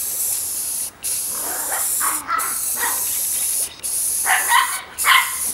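Spray paint hisses steadily onto an aquarium in several long bursts, each broken by a brief pause between passes; the hiss is close and fairly loud with no voices.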